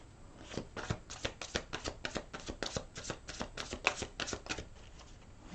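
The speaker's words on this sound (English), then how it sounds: "I'm going to shuffle a few times first" Tarot cards shuffled by hand in a rapid series of soft riffling slaps, fairly quiet and close, with no speech.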